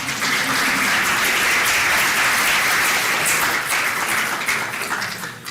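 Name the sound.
audience applause for England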